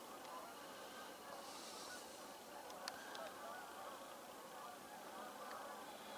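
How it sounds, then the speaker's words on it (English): Flocks of geese honking as they arrive at a river roost at dusk, a faint distant chorus of overlapping calls with a few sharper honks, steady and soft, no talking. "This is the goose hour, when the geese arrive back to the river."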